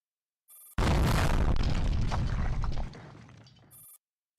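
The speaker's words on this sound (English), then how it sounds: "The sound of a massive explosion comes from behind" A massive explosion effect in an audio drama bursts out loud and close after a short electronic tone. Its roar slowly dies away, and another brief tone follows.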